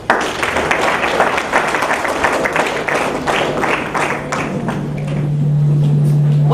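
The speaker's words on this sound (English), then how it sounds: "Please give a big hand." Audience applauding children at a school youth parliament session, a steady dense wash of clapping from a large crowd lasting throughout, with a faint hum rising near the end.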